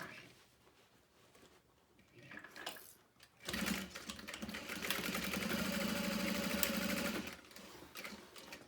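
A sewing machine runs a side seam on a fabric bag, quiet at first, then whirring steadily and closely for several seconds before slowing and stopping.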